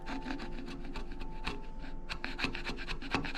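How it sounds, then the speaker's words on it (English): A chisel scrapes across hardened Milliput epoxy putty on a lathe, giving a steady, close, rasping scrape with repeated short strokes and no talk. "So I'm gonna try and scrape this with a chisel"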